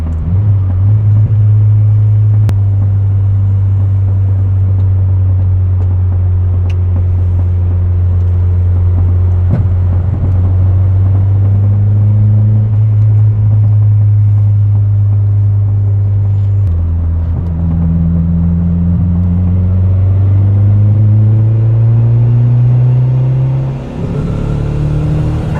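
A turbocharged Honda Civic engine runs loud and close with a steady low drone, its pitch sagging and surging unevenly as fuel seems to cut out, then climbing again.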